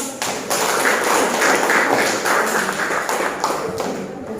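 A classroom full of students applauds together. The clapping is dense and continuous, close and fairly loud, and it keeps going for several seconds with no talk over it.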